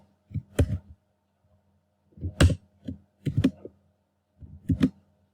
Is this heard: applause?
no